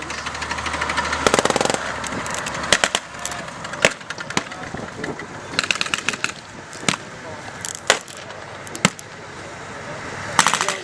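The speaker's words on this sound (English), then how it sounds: "Some severe firepower now coming in from that ship." A ship's 20mm cannon fires at enemy positions in bursts of sharp cracks and rapid reports over a continuous battle din, irregular and fairly loud. A voice speaks over it.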